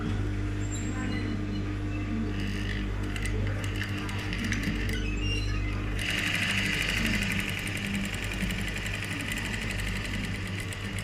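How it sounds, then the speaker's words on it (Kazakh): An industrial sewing machine stitches along a taped, bound pocket edge on a garment panel, a steady close mechanical whir with fine rapid needle ticking that brightens and intensifies partway through, running continuously without talk. "бастырып тігіс жүргіземіз."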